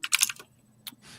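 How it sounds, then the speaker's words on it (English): Loud computer keyboard clacking nearby, a quick cluster of sharp key strikes, a pause, then a single tap and a softer rattle. "you got a loud ass keyboard"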